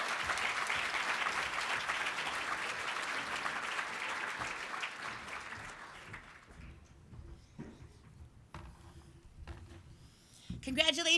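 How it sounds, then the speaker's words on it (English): Dense audience applause at an awards ceremony fills the room, then thins into scattered claps and a few knocks before a voice speaks at the end. "Another round of applause."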